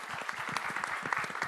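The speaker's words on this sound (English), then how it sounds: "Let's give a round of applause for all of our panelists." A symposium audience claps for the panelists in a brief, steady burst of applause from a modest crowd, heard close and fairly even throughout.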